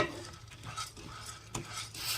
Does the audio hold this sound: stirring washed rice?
yes